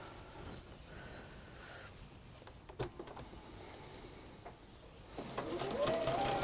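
Sewing machine stitching along both sides of quilt sashing, a steady continuous motor whir that builds louder toward the end, with a brief clunk midway.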